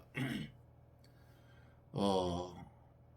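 Two short bursts of an older man's coughing and throat clearing in a quiet indoor room, the second fuller and longer, after a stretch of near silence.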